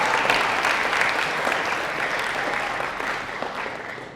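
Ceremony audience claps for an absent coding award winner at a campus recognition event, a full room of steady applause that starts strong and gently fades toward the end.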